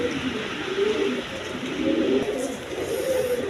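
Lahori pigeons, a blue-bar pair, coo steadily in a low, rolling murmur, with repeated throaty phrases close by over a constant airy background hiss.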